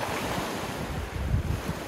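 Calm Black Sea waves wash near the shore at Sochi under a light breeze, giving a close, steady rumbling surf with gusts of wind buffeting the microphone.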